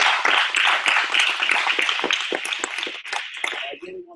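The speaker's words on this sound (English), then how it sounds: "I just want you guys to clap it up for yourselves." A wellness workshop audience claps for themselves, a bright, close burst of hand-clapping with a few distinct slaps standing out, gradually thinning toward the end.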